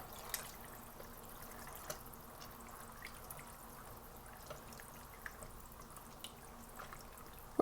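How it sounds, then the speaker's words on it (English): Elbow macaroni cooking in liquid in a pot for cheesy beef macaroni, a faint, steady simmer with scattered soft drips and bubbles throughout and no voices. "the macaroni is going to cook right in the liquid here"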